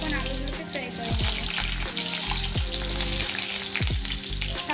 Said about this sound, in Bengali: আমি আগে তেলগুলোকে গরম বসিয়েছি, এখন আলুগুলোকে ফ্রাই করে নেব